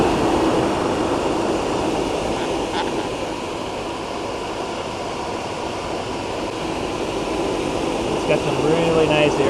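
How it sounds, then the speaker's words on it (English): A Tru-Cool LPD4454 electric transmission cooler fan running close by, a loud, steady whooshing drone of moving air that holds constant throughout, with faint speech mixed under it. "it's all hooked up and the fan works"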